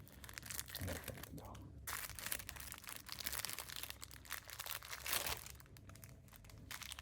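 A Nerunerunerune candy packet of grape-flavoured Japanese candy is torn open and crinkled, with bursts of plastic rustling and tearing up close, and a louder rip near the end.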